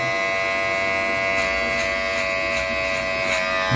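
A rechargeable electric hair trimmer runs continuously close by, a steady, loud, even buzzing drone with no pauses.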